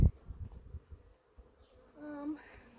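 Honey bees buzz faintly around an opened hive during an inspection, a low hum with a brief louder tonal drone near the end, after a dull knock at the start.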